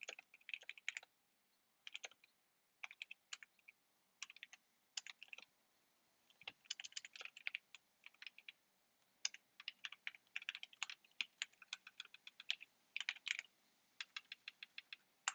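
Keystrokes on a computer keyboard while C code is entered during a pointers programming lesson: irregular bursts of quick, close clicks with short pauses between them, no talking.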